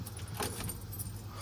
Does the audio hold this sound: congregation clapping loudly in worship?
no